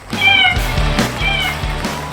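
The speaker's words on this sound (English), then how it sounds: "Life with Bucky, her royal Buckiness, the world's most amazing cat, Bucky." A cat meows twice in quick succession, close and fairly loud, with a clear tonal, slightly drawn-out cry each time.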